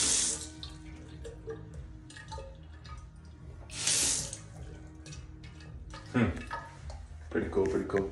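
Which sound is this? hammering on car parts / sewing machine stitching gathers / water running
water running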